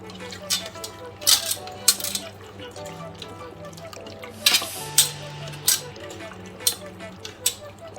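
Chicken pieces worked through a marinade for butter chicken, with wet squelching and scattered clinks of a utensil against the bowl at an uneven pace, close up, while someone talks over it.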